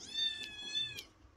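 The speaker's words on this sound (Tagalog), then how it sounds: "Tapos may kasama ka pang dalawang pusa." A cat meows in a single drawn-out, clearly pitched call lasting over a second, fairly close and distinct, with faint background noise and no talking.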